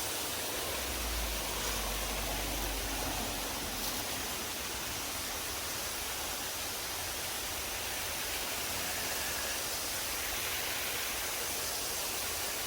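A mountain waterfall rushes on a rainy autumn day, a dense continuous hiss of falling water that stays loud and even throughout, with no talking.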